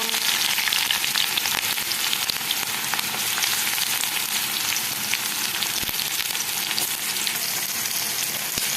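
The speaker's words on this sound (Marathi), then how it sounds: "हे बघा आपला कांदा छान भाजत आहे।" Onion fries in oil in a kadhai with mustard seeds, giving a loud, continuous hiss and crackle that holds steady and close throughout with no talking.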